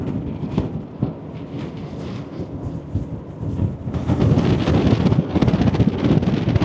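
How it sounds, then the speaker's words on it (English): Wind blows hard on the cruise ship Carnival Liberty at Bimini in the Bahamas, making a rough, rumbling roar on the microphone that grows louder and gustier in the second half. "Very pretty, very windy."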